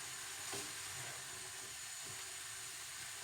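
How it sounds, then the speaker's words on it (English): Garlic and lime balti curry simmering in a pan on low heat, a soft continuous hiss and gentle bubbling with a couple of faint knocks. "that's going to simmer away"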